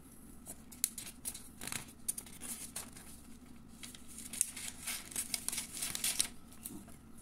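Scissors cutting paper along a dotted line, with a run of crisp snips and light crinkling at close range, quiet and uneven in rhythm, with no talk.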